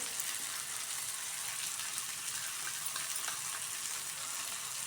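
Tomato and spice masala roasts in a pan for a bitter gourd stir-fry, producing a soft, even sizzle that hisses steadily and fairly quietly throughout with no voices.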